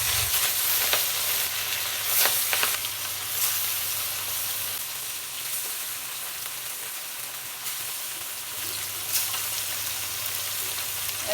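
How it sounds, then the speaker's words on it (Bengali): Katla fish fries in hot oil in a kadai, giving a constant crackling sizzle with occasional sharper spits and a low steady hiss, heard up close with no talk. "মাছটা আমি দিয়ে দেবো, তেল গরম হয়ে গেছে।"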